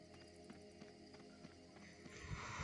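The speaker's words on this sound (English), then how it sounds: "I think this is the last time I'm going to use the horse" Horse hooves clip-clop in the online game Dark Age of Camelot Phoenix, sounding as quiet, evenly spaced thuds at a steady trotting pace, with a rising noisy whoosh near the end.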